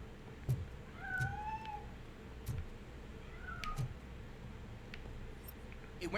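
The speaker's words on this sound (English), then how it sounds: "That cat must be hiding inside." A cat meows several times in the RoboCop Rogue City video game, clear drawn-out mewing calls spaced a few seconds apart over faint background ambience.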